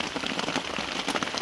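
Steady rain falls on a tarp stretched over a hammock during an atmospheric river, a dense, even patter of drops close by with no voices.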